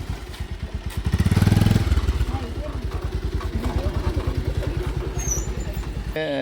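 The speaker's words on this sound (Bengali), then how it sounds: "বাইক পার্কিং করে নিল" A motorcycle rides in through a gate and pulls up to park, its engine chugging in a steady rhythmic putter with a brief rev, close by and fairly loud; someone talks over it.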